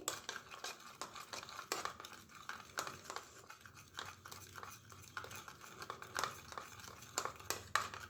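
Aloe vera gel cream is stirred and mixed in a bowl with a utensil. The scraping and clinking repeats in quick, irregular strokes and sits close and fairly quiet, with no voice heard.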